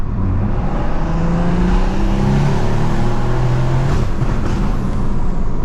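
A BMW M140i with a big turbo and screamer pipe accelerates hard on a night drive, a loud, sustained engine roar with rising gear tones and rushing turbo noise heard from inside the car.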